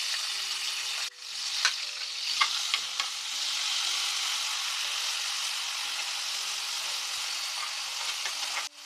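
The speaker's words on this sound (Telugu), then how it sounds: "ఆయిల్ వేసాను ఉల్లిపాయ పచ్చిమిరపకాయ పేస్ట్" Onion and green chili paste sizzles steadily in hot oil for a cucumber and mutton curry, with a constant close frying hiss and occasional spoon stirs and scrapes against the pan throughout.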